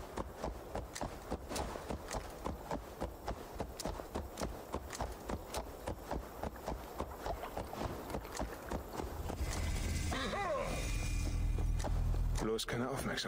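A horse gallops in Assassin's Creed Valhalla, its steady rhythmic hoofbeats running throughout over game ambience and background speech, before a louder wash of sound takes over near the end.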